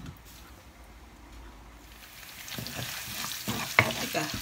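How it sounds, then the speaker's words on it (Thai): Chicken wings and pickled bamboo shoots being stir-fried, a quiet start building into a steady sizzle with scraping stirs and a sharp clatter near the end, close and moderately loud with no talking. "ก็จะผัดให้เขาหอมก่อนจ้ะนะ"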